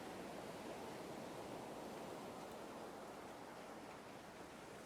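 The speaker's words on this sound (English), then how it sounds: "Sorry, it's pouring down rain outside." Heavy rain pours steadily outside in the video game Perfect Tides, a dense, even hiss that stays loud and unchanging throughout, with no voices.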